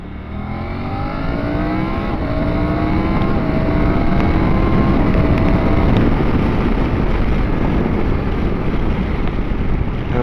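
Triumph Tiger 900 GT Pro motorcycle accelerating hard on a dual carriageway, engine note climbing through rising tones with gear shifts, close and loud under heavy wind rush, no speech.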